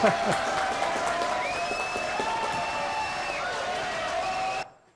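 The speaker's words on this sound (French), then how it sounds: "on les applaudit tous les deux" Audience applause for two guests on a live French radio or TV show segment, a steady wash of clapping and crowd noise with a tone over it that cuts off abruptly near the end.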